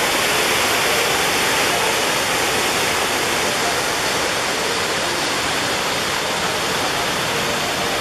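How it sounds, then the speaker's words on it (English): Chittenango Falls, a large waterfall in a New York state park, gives off a constant loud rushing roar of falling water, close and unbroken from start to finish. "It's going to be noisy by the falls."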